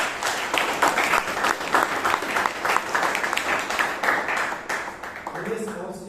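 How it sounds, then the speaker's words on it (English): Audience members at a Toastmasters club meeting in Bangalore give a lively round of applause, close and steady throughout, tapering slightly near the end as a voice comes in. "Let's hear a big round of applause for her."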